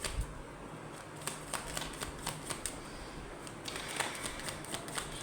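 Tarot cards are shuffled by hand during a Hindi tarot reading, giving a close, steady run of soft riffling clicks and papery flutters with no talk.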